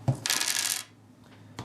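A handful of small plastic sidekick dice from a Dice Masters tabletop game are tossed and clatter onto a table in one short, bright rattle that quickly settles.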